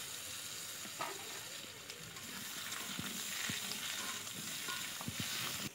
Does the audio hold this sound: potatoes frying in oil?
yes